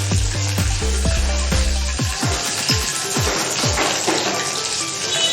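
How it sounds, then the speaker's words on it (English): Whole spices crackle and sizzle as they fry in hot oil in a home kitchen, a loud, steady hiss with sharp pops and a few clattering knocks, no voice. "So I will fry it, and now I will add the whole spices."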